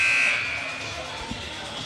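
A loud, sustained electronic buzzer at a high school basketball game sounds right away and slowly fades over a couple of seconds, leaving faint gym ambience.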